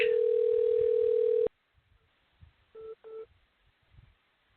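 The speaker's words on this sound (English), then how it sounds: "My phone is ringing right now." A telephone on a live broadcast line gives a steady dial tone for about a second and a half, then two short electronic tone bursts follow. No talking is heard.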